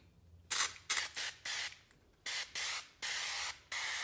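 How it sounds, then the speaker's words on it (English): Several short hissing bursts of cooking spray onto a baking sheet, close by, in an uneven rhythm of quick squirts and longer sprays with brief pauses between. "Spray my baking sheet."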